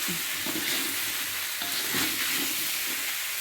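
Tempe, tuna and tofu with sambal are stirred in a hot pan, with a loud, continuous sizzle and soft, repeated scraping strokes of the spatula.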